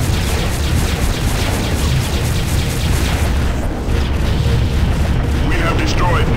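A Rahu-class mining ship blows up in the space combat game FreeSpace 2, a loud, sustained roaring boom that rumbles on for several seconds.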